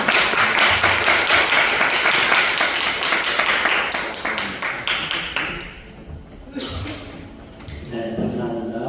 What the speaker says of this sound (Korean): 박수 받으시겠습니다.